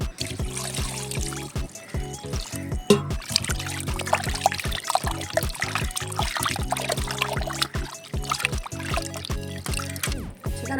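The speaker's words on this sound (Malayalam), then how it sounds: "രണ്ട് കിലോ കോഴി എടുത്തിട്ടുണ്ട്. അത് നല്ല കഴുകിയെടുക്കാം." Water is poured over two kilograms of raw chicken as it is washed, giving close, continuous trickling and splashing over a faint tonal background.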